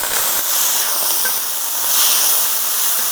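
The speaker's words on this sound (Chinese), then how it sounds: "黄酒这样往边上一喷，可以激发整个锅的锅气" Yellow rice wine is sprayed into a hot wok, giving a continuous broad hiss of steam that swells louder partway through, with no voices.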